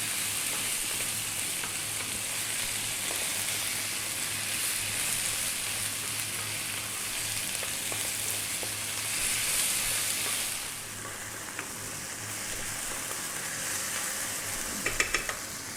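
Ingredients for a fish curry stir-fried over high heat hiss and sizzle steadily in the pan, a continuous close frying crackle that eases slightly near the end, with no talking.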